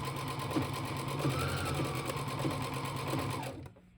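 A sewing machine hems a pair of pants along the folded edge, guided by a special presser foot, with a steady close-up whir that runs evenly before stopping abruptly near the end.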